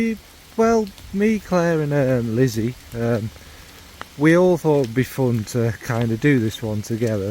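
Rain falling outside makes a soft, steady patter in the background, mostly masked by someone talking continuously up close.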